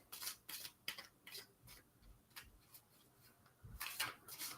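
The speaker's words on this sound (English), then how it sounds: "Shuffling overhand." Tarot cards are shuffled overhand, giving a quiet series of short papery riffles and taps in an uneven rhythm, close and faint.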